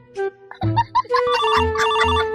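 A mobile phone rings for an incoming call, playing a bright melodic electronic ringtone of quick stepping notes that builds into a fuller repeating tune, with no talking.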